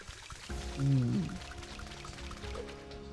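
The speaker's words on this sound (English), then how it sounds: "That water noise though, listen to this." Water splash effect from the video game Sonic Unleashed, a single brief sloshing splash heard close and loud, with a speaking voice over and around it.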